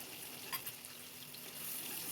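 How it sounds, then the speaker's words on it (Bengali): A large chopped onion fries in hot oil already used for potatoes and paneer, giving a soft, steady sizzle at low volume with no speech over it. "পেঁয়াজটাকে বাদামি করে ভেজে নেব।"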